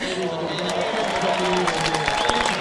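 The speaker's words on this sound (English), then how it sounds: "the crowd did go mad" Spectators at the Moche Rip Curl Pro surf contest cheer and applaud in a sustained, loud wash of clapping and shouts, with voices talking over the crowd noise.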